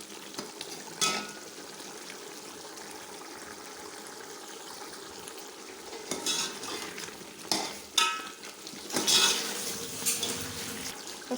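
Spiced beef with red chilli and salt being stirred in a frying pan for beef palao: a steady sizzle with intermittent scraping spoon strokes against the pan, close and fairly loud.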